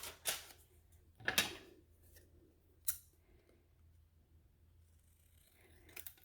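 Scissors cutting paper words out for a mixed-media craft tag: a few sparse, quiet snips spaced seconds apart in a hushed room.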